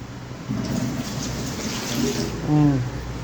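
Water drains from a home fish tank with a close, steady gushing wash, swelling slightly toward the end while a voice speaks briefly over it.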